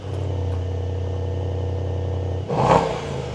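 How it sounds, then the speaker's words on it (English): A 2024 Mercedes S63 AMG with a 4-liter twin-turbo hot-V V8 idles with a deep, steady rumble, then gets one sharp blip of the throttle that swells loudly and settles back down. "I'm gonna give you guys a rev real quick"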